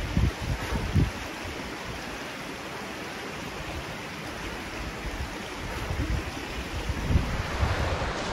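A creek in the Ozarks rushes steadily near Mill Creek's waterfalls, a constant broad flowing hiss with faint gusty rumbles and no voices.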